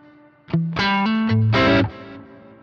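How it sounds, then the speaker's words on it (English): A distorted electric guitar plays a few sustained chords close up through a Boss GT-1 modeler's reverb, ringing out with a washy, effected tail before fading. "if I liked that as a reverb sound"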